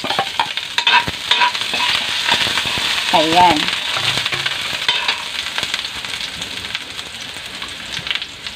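Garlic and onion frying in a pan over high heat, a steady bright sizzle with occasional stirring scrapes, while a voice speaks briefly and faintly above it.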